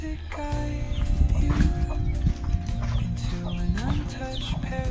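Hens cluck amid a busy, droning background of steady humming tones and scattered farmyard noise.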